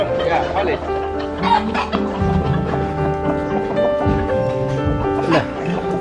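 Caged roosters and hens cluck and crow around a busy yard in the Mekong Delta, Vietnam, while people talk nearby, with occasional barking in the background.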